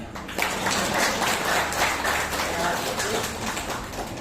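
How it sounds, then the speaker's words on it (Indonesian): An audience at a community gathering claps steadily at moderate volume for a few seconds, with a faint murmur of voices underneath. "Orang ono tepuk tangannya."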